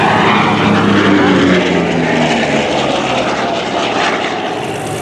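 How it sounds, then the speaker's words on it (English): A Vought F4U Corsair propeller fighter roars past at a Blue Angels air show at NAS Jacksonville, a loud, sustained engine drone with a falling pitch as it passes and gradually fades, with no talk over it. "The Corsair was initially designed to be flown off the decks of aircraft carriers"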